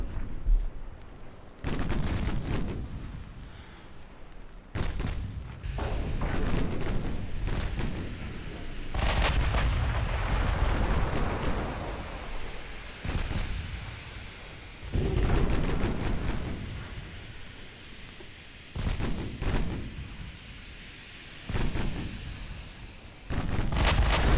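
Warship main gun salvos in the naval video game Ultimate Admiral: Dreadnoughts, a series of heavy booming blasts with rumbling tails, loud and repeated across the clip.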